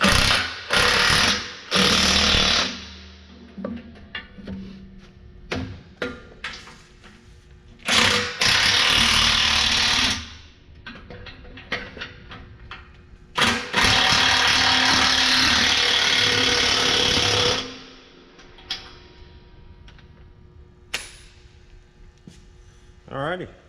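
A ratchet with a wobble socket turns a fitting on a John Deere tractor in loud, close bursts of rapid clicking and grinding, separated by quieter stretches with a person talking.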